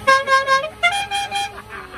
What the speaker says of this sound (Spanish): escucha esa bocina